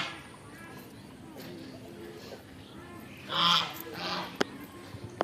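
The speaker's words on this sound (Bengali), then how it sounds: "রাজা হাঁসগুলো ডাকতেছে খুব," Farmyard ducks give a few short honking calls, fairly faint and mostly clustered midway, over steady background noise while a person talks.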